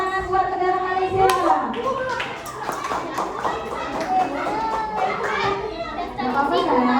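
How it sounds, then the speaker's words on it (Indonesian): Children in a classroom clapping for the Malaysia team, scattered rhythmic hand claps and taps mixed with lively kids' chatter and shouting throughout. "Tepuk tangan buat negara Malaysia."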